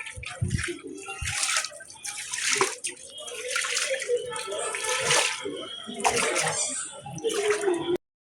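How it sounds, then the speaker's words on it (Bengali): Water splashing as devotees step into a temple pond and sprinkle it over their heads, a busy run of splashes and trickles with voices talking throughout. "সব ভক্তরা এখানে নেমে এই জল মাথায় ছিটাচ্ছে"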